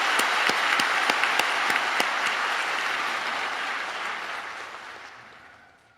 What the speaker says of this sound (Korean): 다시 한번 하나님께 감사 영광 박수를 올려드리겠습니다.